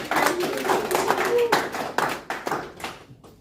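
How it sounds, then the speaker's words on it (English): Scattered applause breaks out at a press conference honouring Miss Global Samoa, a handful of distinct hand claps that thin out and fade to silence within a few seconds. "can we please have a round of applause for Miss Haylani"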